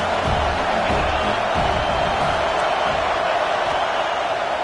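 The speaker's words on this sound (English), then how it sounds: "This crowd trying to make life miserable for this offense." Dense, roaring stadium crowd noise from the College Football 25 video game, a loud continuous wash of many voices rising to unsettle the offense, with no clear individual shouts standing out.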